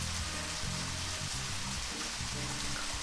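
Steady rain falling in the video game Red Seeds Profile, a constant wash of dense patter over a low rumble of other game sounds, with no voices.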